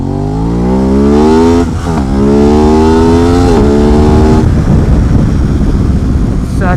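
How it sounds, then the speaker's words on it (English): Aprilia RS660 sport bike with a full aftermarket exhaust revs hard and close, its pitch climbing and then stepping down through several rapid downshifts with sharp blips between gears. "I'm going to click it up into fourth because I want you guys to hear these downshifts."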